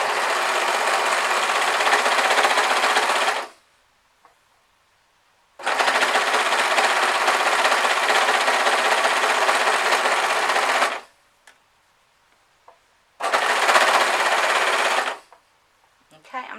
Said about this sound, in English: when you're sewing with an overlocker, it can sort of pull the thread.